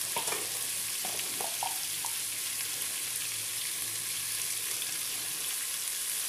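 Onions frying in a pan with a little salt for Ambur chicken biryani, a steady dense sizzle throughout, close up, with a few early clinks of a spoon and no talking.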